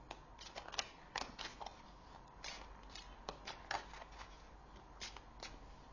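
Tarot cards being flipped and handled on a table, giving a quick run of crisp, papery snaps and slides, close and fairly quiet, with no voice over them.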